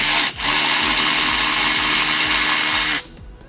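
A 13 mm transmission bolt being loosened with a deep socket on a power tool, which gives a loud, steady whirring drive with a rhythmic ticking pulse for about three seconds before cutting out, close and alone.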